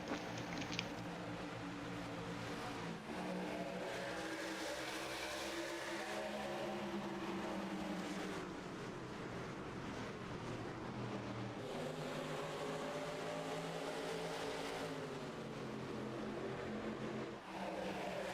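Racing trucks at Phoenix in a truck-series video game, a dense roar of many engines revving and shifting together at the green flag, loud and continuous with rising and falling pitch sweeps.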